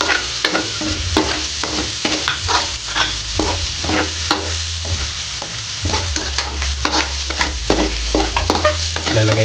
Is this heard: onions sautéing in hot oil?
yes